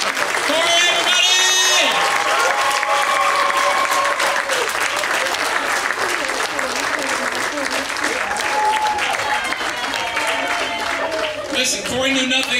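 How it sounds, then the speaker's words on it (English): A comedy show audience at Penn State Fayette applauds for several seconds, the clapping steady and full, while voices call out and shout over it and it rises again near the end. "Please give him a big, huge round of applause."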